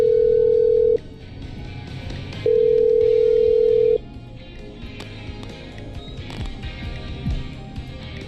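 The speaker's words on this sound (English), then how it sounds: "I'm dialing. One moment." A telephone in the video game Killer Frequency, two long loud steady ringback tones separated by a pause, then quieter game ambience with faint background sounds.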